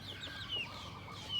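Farmyard chickens gathered waiting for rice, clucking softly and faintly in short scattered calls over a low outdoor background.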